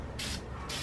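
Two bursts of aerosol spray hissing onto engine camshafts, each lasting about a third of a second, close to the microphone with a low rumble underneath.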